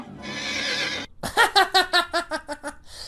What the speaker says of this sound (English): So Sindel wasn't scared of the horse when it was white